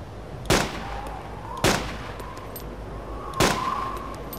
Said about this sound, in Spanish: Oí los disparos.